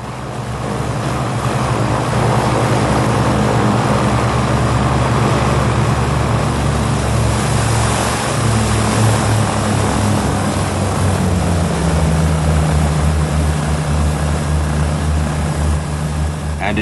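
Piston engines of a four-engined propeller airliner run steadily, a loud continuous droning roar with a low throbbing hum that shifts slightly in pitch partway through, with no voices.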